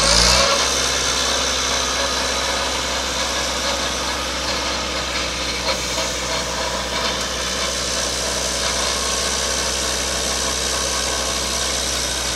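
A 2004 Vermeer SC60TX stump grinder's engine runs steadily at a loud, close idle, starting at once and holding an even drone throughout with no talk.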